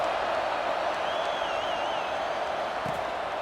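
A steady, dense stadium crowd roar from the NCAA 26 college football video game during an Indiana versus Nebraska matchup, constant and subdued with a faint whistle-like tone drifting over it.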